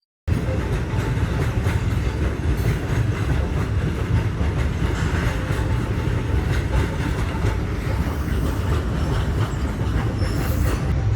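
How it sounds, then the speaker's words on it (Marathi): A long freight train rumbles steadily past nearby, its wheels clattering and grinding on the rails for the whole stretch without a break. "आता एक ट्रेन आल्या"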